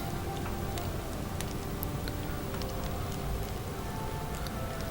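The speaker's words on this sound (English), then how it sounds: "Okay, it's raining." Steady rain in the Minecraft video game, a dense even hiss of falling drops with scattered light ticks, constant throughout, no talking.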